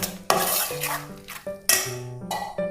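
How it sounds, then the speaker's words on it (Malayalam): A spoon stirs ground mix into cherupayar parippu pradhaman payasam in a pot, giving close, repeated scraping and clinking strokes against the metal with a faint sizzle beneath, no voices. "അരച്ചെടുത്ത മിക്സ് ഞാൻ ഇതിലേക്ക് ഒഴിച്ചു കൊടുക്കുകയാണ്. നന്നായിട്ട് മിക്സ് ചെയ്യാം."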